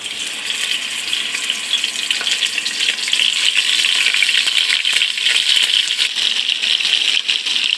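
Tilapia pieces frying in hot oil, a loud, steady sizzle that holds close and continuous, swelling slightly partway through with no voices over it.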